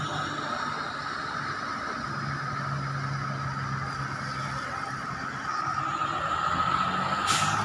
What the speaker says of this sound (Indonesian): XPO Haryanto Ponorogo Surabaya Patas via tol panjang.